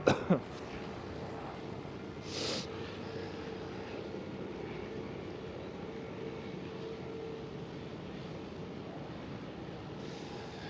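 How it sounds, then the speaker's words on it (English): A Delta Airlines Airbus A330 approaches runway 24 at Schiphol Amsterdam, its jet engines giving a steady, broad, distant roar that holds through the whole stretch, with a few faint bumps and no talking. "Delta Airlines A330 approaching runway 24, as well as the Air Canada 787"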